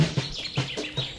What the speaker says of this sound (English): a couple birds that want to say hello.